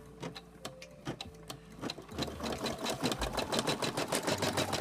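Brother SE-400 embroidery machine stitching a custom patch, starting with a few slow clicks and then settling into a rapid, steady mechanical chatter close to the microphone.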